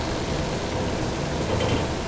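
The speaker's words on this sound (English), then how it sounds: "It's raining." Rainfall in the horror video game Shiver: Vanishing Hitchhiker, a soft, even hiss of rain that stays constant over the short stretch, with no voices.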